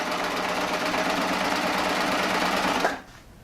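A Baby Lock Triumph serger runs steadily at close range as it chains off past the fabric edge of a holiday banner, a dense, fast mechanical whir that stops abruptly near the end.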